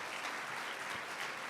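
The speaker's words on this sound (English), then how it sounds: "Round of applause for our innovation champions" Applause from an audience at an awards ceremony, a dense, even burst of clapping, fairly quiet and distant, lasting a moment with no voices over it.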